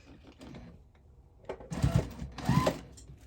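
A sewing machine stitches binding onto a pumpkin-shaped hot pad at a quarter-inch seam. A low mechanical hum builds into two louder, faster bursts of close needle chatter.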